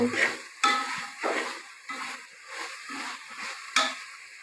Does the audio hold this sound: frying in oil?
yes